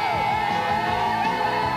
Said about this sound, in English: Or you might cheer.